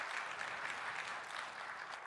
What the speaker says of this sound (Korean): 우리 큰 박수 해주시겠습니다